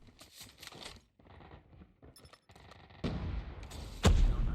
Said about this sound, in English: Really curious about the hip fire here on this weapon